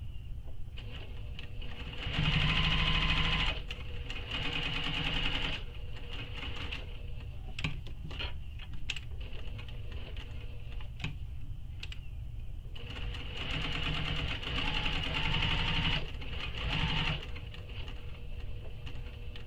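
A sewing machine top stitches a shoulder bag, running in two louder bursts around the start and again later, with a steady mechanical hum and faint rhythmic patter between.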